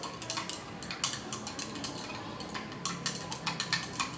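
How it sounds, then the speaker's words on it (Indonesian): A spoon clinks and taps against a container while a mixture is stirred, giving a quick, irregular run of light metallic ticks, close and fairly quiet. "Kemudian kita aduk"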